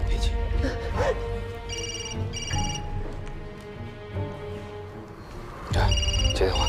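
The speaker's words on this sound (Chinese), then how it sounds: "这个电话很可能就是绑匪打来的" A telephone rings in a tense kidnapping crime-drama scene, sounding in several short, repeated bursts of electronic trilling over a bed of background music and low sound.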